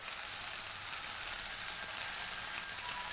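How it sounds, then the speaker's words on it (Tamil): Onion pakoda batter crumbled into hot oil fries with a steady, even hiss and fine crackle, close up and moderately quiet, with no voices. "எண்ணெய் நல்லா சூடான பிறகு ரெடி பண்ணி வச்சுருக்க மாவை இதில் உதிர்த்து விடணும்."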